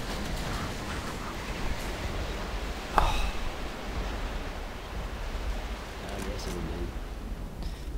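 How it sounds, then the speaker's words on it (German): Steady, breathy wind blowing around trees in the video game Left 4 Dead 2, a continuous whooshing bed with a brief sharp sound near the middle and faint distant tones later. "Und der Wind pfeift hier um die Bäume herum."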